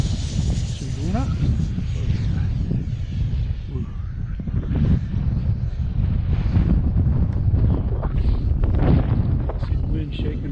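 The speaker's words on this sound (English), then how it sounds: "See the wind shaking her around, man. See the wind?" Gusty wind roars and rumbles steadily across the microphone outdoors while an E-flite F-16 Thunderbird RC jet flies, the buffeting continuous and loud throughout, with a voice talking over it.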